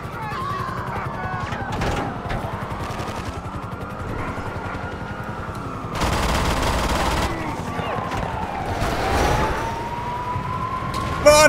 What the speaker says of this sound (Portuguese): a polícia não para de atirar